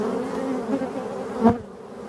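Black bees buzz in a forest in Brittany, a steady low droning hum with one bee passing close by and swelling briefly before fading.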